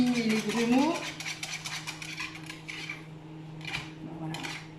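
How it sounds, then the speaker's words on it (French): A utensil scraping and clinking against a pot while lasagne sauce is stirred to work out lumps, close and moderately loud, with a person talking over the stirring. "Il faut mélanger bien pour éliminer les grumeaux."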